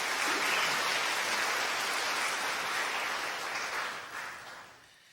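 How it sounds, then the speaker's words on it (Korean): Welcoming applause from a church congregation during a Sunday worship service, a dense steady wash of many hands clapping that holds strong, then thins and fades out near the end. "여러분들 환영의 박수 부탁드리겠습니다"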